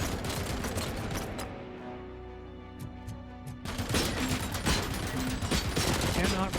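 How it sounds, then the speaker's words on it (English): Automatic gunfire in the Robocop: Rogue City video game, a dense, sustained fusillade that drops away briefly before heavy firing resumes, loud and continuous over a busy game soundscape. "Okay, machine gun at the end."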